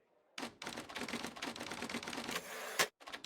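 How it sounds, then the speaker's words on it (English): Rapid typewriter keystrokes clatter in a close, busy run of clicks and thunks, broken by a short pause and a louder carriage-like clack near the end, with no talking. "I love the sound of a typewriter"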